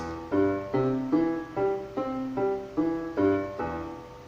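Piano arpeggio played without the sustain pedal: about nine separate notes, each struck cleanly and quickly dying away before the next, giving a detached, evenly paced pattern heard up close.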